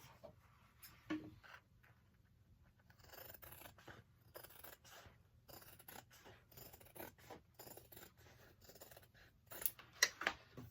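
Scissors trimming excess fabric while a handbag is being sewn: faint, close snips and soft scraping cuts, spread unevenly through a quiet stretch with no voice.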